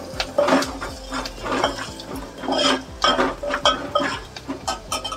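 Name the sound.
tomatoes added and stirred in cooking pan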